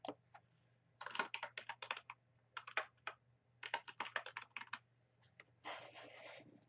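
Typing on a computer keyboard in quick irregular bursts of close, crisp key clicks separated by short pauses, with a denser run of keystrokes near the end over a faint low hum.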